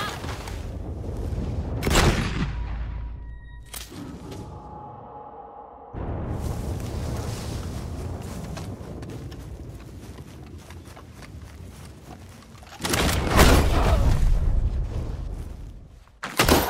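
Explosive rounds firing in Red Dead Online, a few heavy broadband blasts near 2 s, 4 s and 13.5 s over a continuous background rumble of gameplay, with no one talking.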